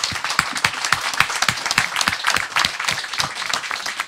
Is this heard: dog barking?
no